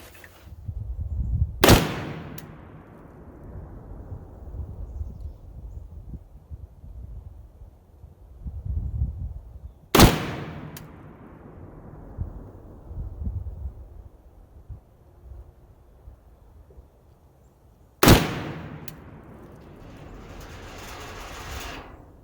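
A PSA AKP AK-pattern rifle fires three sharp, well-spaced shots at a range, each crack followed by a rolling echo, with low rumbling background noise and handling sounds in between.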